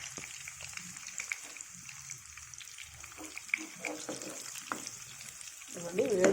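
Drumstick pieces sizzle in hot oil for a tomato drumstick pickle, a steady, fairly quiet crackle running throughout with a few brief clinks, swelling slightly louder at the end.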